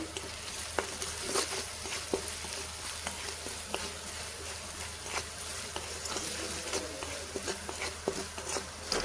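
Spice tempering for vada pav sizzles steadily in a hot pan, a continuous crackly fry with scattered sharp pops and spits, close and moderately loud with no talking.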